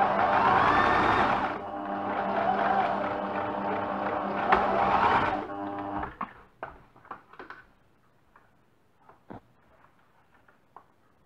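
A sewing machine stitching a pocket onto a black knit sweater with a knit needle, a loud steady whirring run for about five seconds that stops abruptly, followed by scattered quiet clicks and fabric handling.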